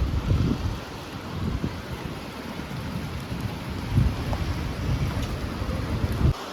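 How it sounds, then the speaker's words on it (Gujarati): Heavy rain pours down steadily across Bhavnagar, a dense, constant hiss with scattered drop impacts and low rumbling swells, no voices heard. "ભાવનગરમાં વરસાદ શરૂ થઈ ગયો છે"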